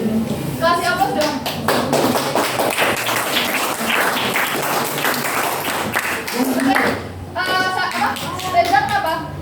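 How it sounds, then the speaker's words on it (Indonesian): A high school classroom claps for a group's presentation, a burst of dense, close hand claps with some thumps, and people talking and voices heard over it. "Kasih aplaus dong."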